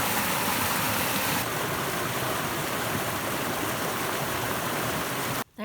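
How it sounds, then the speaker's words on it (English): A swollen woodland stream running high and fast after rain and snowmelt, pouring into a lake: a loud, steady broadband rush with no let-up, cutting out briefly at the very end. "the water is rushing down the stream today into the lake"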